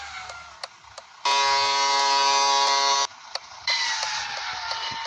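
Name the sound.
third vehicle horn in a driving video game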